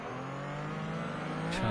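A Porsche 935/K3 race car accelerates at Barber Motorsports Park, its engine note climbing steadily under load before a sharp shift near the end, loud and close.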